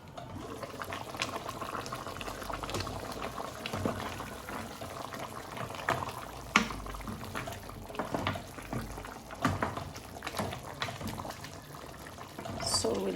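Chicken simmers in coconut milk, a soft, uneven bubbling and popping near at hand that keeps on throughout, with a voice faintly in the background.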